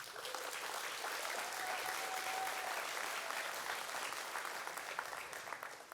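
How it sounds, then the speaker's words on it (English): A college convocation crowd in Fort St. John applauding graduates, a full, continuous roar of clapping at steady strength from start to finish, heard from a distance. "So how about a big applause for that grit to all of our graduates?"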